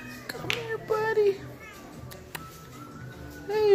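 A cat meows a few times, close by, in short rising cries mixed with a person's soft calling voice.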